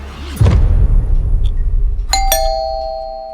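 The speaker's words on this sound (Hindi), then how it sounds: "डोरबेल के सडन इंटरप्शन ने राहुल और सनी के कॉन्वर्सेशन को एक शार्प झटका दिया" After a low thump, a doorbell chimes two bright tones whose ring lingers and fades, loud and nearby.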